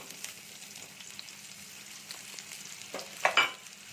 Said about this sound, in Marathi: आता एक टेबल स्पून ऑइल घालूया कांदा तांबूस रंगाचा होईपर्यंत परतून घ्यायचा आहे